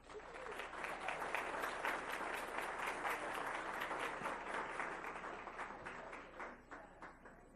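A room of attendees at a school board meeting claps for honored staff, an even, sustained round of applause that thins out toward the end, heard without talk.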